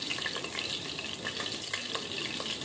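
Green chillies, cut lengthwise, sizzle and crackle in hot oil in a pressure cooker, a dense, close, continuous frying hiss with scattered pops.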